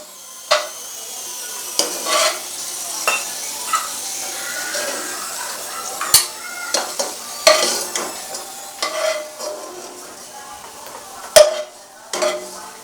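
Vermicelli frying in leftover ghee is stirred in a pan, with soft sizzling and a run of sharp scraping and clinking strokes against the metal, some louder than others, alone without speech.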